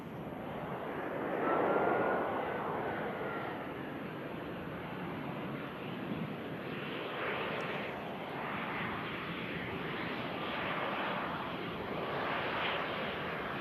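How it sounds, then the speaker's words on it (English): An EasyJet passenger jet arriving at Manchester Airport from Belfast, a broad roar of engines at a distance that swells and slowly sweeps past, steady and moderately loud with no talk. "EasyJet just arriving in from Belfast."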